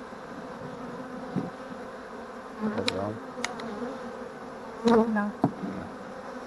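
Honey bees buzz steadily around a hive as a bee package is installed. Individual bees pass close by with louder droning swells, and a single short word is spoken once.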